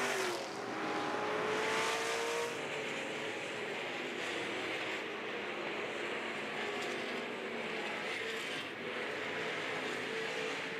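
IMCA stock cars racing through lap traffic at RPM Speedway during the Sunflower Classic feature, engines roaring continuously with revving swells as cars pass, loud and sustained throughout.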